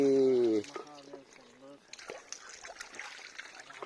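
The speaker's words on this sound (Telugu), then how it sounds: "ఇక్కడ నుంచి నీళ్ళు వస్తున్నాయి" Spring water flows behind the Buggeshwara temple, a stream rising from the ground. A soft, steady trickle and slosh follow a brief burst of voice at the start.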